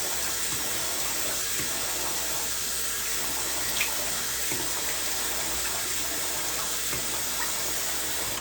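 A tap runs cold water steadily for shaving, a constant close rushing and splashing with no break across the whole stretch.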